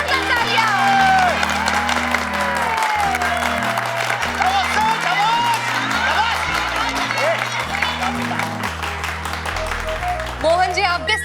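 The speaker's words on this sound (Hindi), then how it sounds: "जोरदार तालियां।" Loud audience applause and cheering fill a Hindi TV serial's competition show stage, a steady dense clapping crowd over music, with a host voice briefly present.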